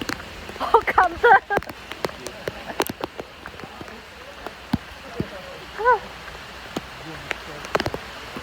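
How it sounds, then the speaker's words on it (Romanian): Rain falls steadily in a tropical forest in Mexico, a gentle hiss of drops on leaves, with brief bird calls rising above it now and then. "Plouă în pădurea tropicală,"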